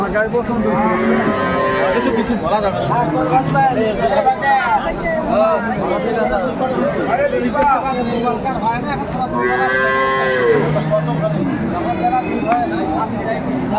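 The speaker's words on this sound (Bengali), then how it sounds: "চমৎকার গাভী আর বাছুর আমরা দেখছিলাম এখানে।" Cows and calves mooing repeatedly at a rural cattle market in Dinajpur, Bangladesh, several loud bellows overlapping with the steady murmur of a crowd and people talking nearby.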